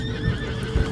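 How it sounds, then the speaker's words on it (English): A horse neighs and whinnies in Red Dead Redemption 2 as its hooves clip-clop close by, with a louder burst of stamping near the end of a short, busy stretch. "Please, control that horse."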